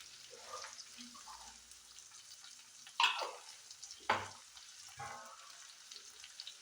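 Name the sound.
stirring payar thoran (green beans) frying in a pan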